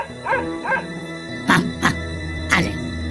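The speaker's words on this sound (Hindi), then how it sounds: "कुत्ता भौंक भौंक कर दोनों की लड़ाई बंद कराने की कोशिश करता है।" A cartoon dog barks repeatedly to break up a fight between animals, giving a quick series of sharp yappy barks, close and loud, several in short bursts with some whimpering yips.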